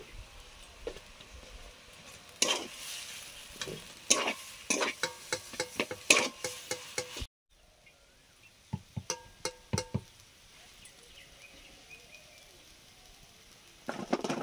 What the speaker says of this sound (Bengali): পেঁয়াজি ভাজা হয়ে গেল